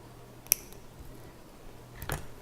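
A single sharp snip of scissors trimming excess material from a handmade tiered earring, quiet and close, followed by a softer rustle of handling.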